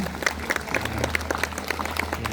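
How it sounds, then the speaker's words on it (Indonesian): Students and staff at a school orientation ceremony clap together in a brisk, dense round of applause, moderately loud and continuous, with a low hum of background noise underneath. "Tepuk tangan untuk bapak-bapak kedua"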